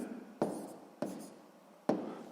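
A pen scratches across paper in three short strokes, quiet and close, with pauses between each burst.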